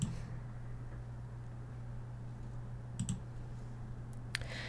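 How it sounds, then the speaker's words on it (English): Computer mouse clicks, a few sharp, faint clicks spaced apart over a low electrical hum. "you can also select the date by dropping down the calendar, clicking on the down arrow like I just did"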